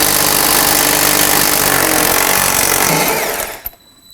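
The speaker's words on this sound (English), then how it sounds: "I'm going to use my socket, small extension, and my impact gun." An impact gun loosens 21 mm bumper nuts on a 2015-2020 Ford F-150, a loud, steady mechanical whir for about three and a half seconds before it cuts off abruptly.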